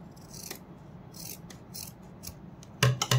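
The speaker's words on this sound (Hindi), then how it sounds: "यहाँ से मैं इसको कट कर दूंगी" Scissors snip through fabric being cut for a small doll dress, with several faint rubbing cuts followed by three louder, close, crisp snips near the end.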